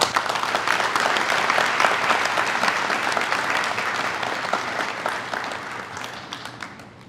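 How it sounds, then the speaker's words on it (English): A large audience at a 2022 CNMI gubernatorial debate on Guam applauds to welcome a panelist, with dense, steady clapping that holds loud for several seconds and then slowly fades. No voices are heard. "Please help me welcome Ms. Patty Arroyo with a warm round of applause."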